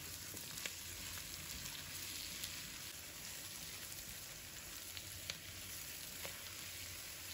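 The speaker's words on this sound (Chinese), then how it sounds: "翻炒均匀后，然后把韭菜、葱段放入锅中，继续翻炒几下。" Sliced potatoes with chives and scallion segments are stir-fried in a wok for a spicy dry-pot dish, producing a dense, even sizzle close by with occasional sharp clicks of the spatula.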